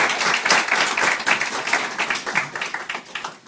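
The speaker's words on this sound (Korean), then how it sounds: "우리 수고하는 장전사님에서 같이 한번 박수하시겠습니다" A church congregation bursts into brisk applause, many hands clapping together in a dense, lively patter that stays fairly loud throughout.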